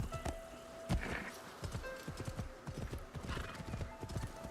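Horse hooves clip-clop at a steady walking pace through a town in Assassin's Creed Shadows, close and fairly loud, with an occasional whinny mixed into the game sounds.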